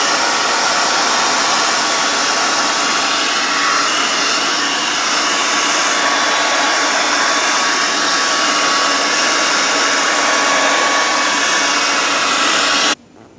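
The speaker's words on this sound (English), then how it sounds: "So the blow dryer just makes all the difference." A blow dryer heats homemade galaxy lollipops, giving a loud, steady whooshing roar that runs unbroken for about thirteen seconds and then cuts off abruptly.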